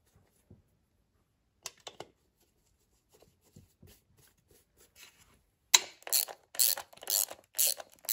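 Bolts being tightened with a ratchet over a gasket on a cover, first a few faint scattered clicks, then a loud close burst of rapid ratcheting strokes in quick rhythm near the end.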